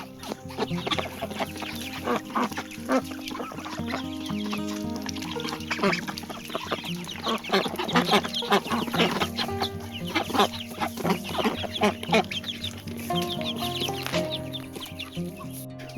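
Nearly month-old Pekin ducks, raised among other fowl, keep up a close, continuous chorus of quacks and peeping calls. The busy, overlapping cries have no talking over them.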